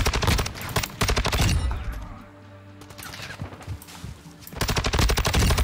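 Rapid automatic bursts from an STB 556 assault rifle in Call of Duty: Modern Warfare 2, loud sharp volleys at the start and end with a brief lull in between.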